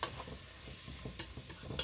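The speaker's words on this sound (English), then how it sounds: "Now, I want to give it a good healthy stir." Escarole and onions with pepperoni are stirred in a pan, a spoon scraping in short rhythmic strokes over a soft sizzle, close and fairly quiet.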